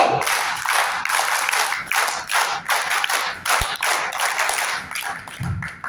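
An audience at a Hindi poetry gathering (kavi sammelan) claps, with loud, close, uneven bursts of hand clapping that swell and dip in rhythmic waves, and a single sharp thump partway through.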